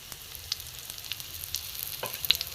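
Slices of bread frying in a little oil in a pan, a soft steady sizzle with scattered light pops and crackles, close and quiet, no voices.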